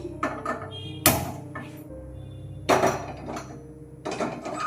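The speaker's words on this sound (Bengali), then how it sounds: "আবারও গ্যাসের ফ্লেমটা অন করে কড়া বসিয়ে দিচ্ছি।" A metal kadai is set down on a gas stove in a home kitchen while making a sweet, giving a few separate clanks and knocks spaced across the moment, close and moderately loud.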